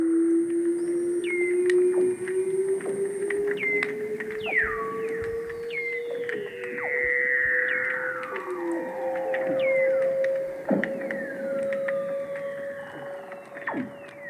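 Seals singing underwater in Antarctica, with long rising whistles, descending chirping trills and sweeping calls overlapping continuously, over a crackling background of clicks.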